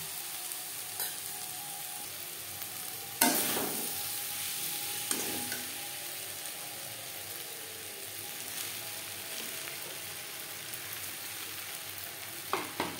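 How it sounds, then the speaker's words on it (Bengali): Soaked sago stirring into fried vegetables seasoned with roasted cumin powder for sabu khichuri, a soft steady sizzle and frying hiss with a few sharp spoon-against-pan knocks, close by, with no talk. "এবার দিয়ে দেব ভিজিয়ে রাখা সাবুদানা"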